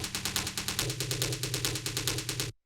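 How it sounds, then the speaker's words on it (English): A tom drum sample in a dark techno production repeats a fast, even 16th-note pattern with building velocities, each hit a punchy, resonant thud with a noisy attack, ending abruptly. "we have this tom, which sounds like this"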